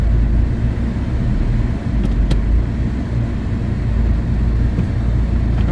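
A 2008 Subaru Impreza engine idling steadily after an alternator replacement, a loud, close, continuous low rumble with a brief faint click partway through and no speech.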